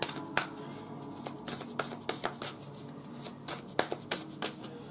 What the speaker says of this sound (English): Let's pull some Believe in Your Own Magic cards for Miss Jackie Aina.